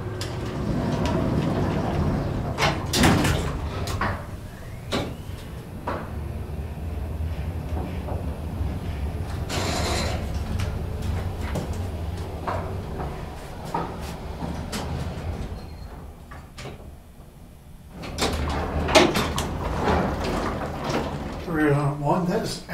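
Vintage Haughton black-button traction elevator in motion: a steady low mechanical rumble with clunks and door-operation thumps near the start, around ten seconds and after eighteen seconds, with occasional speech over it.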